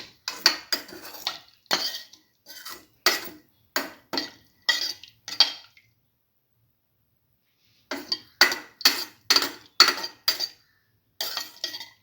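A spoon stirs a water mixture for cinnamon vermicelli soup in a pot, making repeated clinking scrapes in short bursts, a pause, then another run of brisk strokes.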